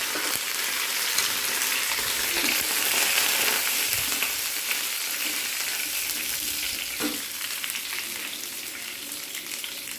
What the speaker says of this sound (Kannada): ಸ್ವಲ್ಪ ಸಾಸಿವೆ ಹಾಕ್ತಾಯಿದ್ದೀನಿ ಸಾಸಿವೆ ಸಿಡಿಲಿಕ್ಕೂ ಉದ್ದಿನಬೇಳೆ ಆಮೇಲೆ ಕರಿಬೇವು ಸ್ವಲ್ಪ